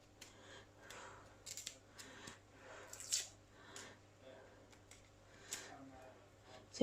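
A vegetable is topped, tailed and peeled by hand, giving soft, wet scraping and snipping sounds in irregular bursts, close and quiet, with faint room hum beneath.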